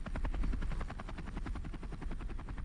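Helicopter in the Men of War: Assault Squad 2 war game, a steady rapid rotor chop with engine whine throughout, loud and close with no talk over it.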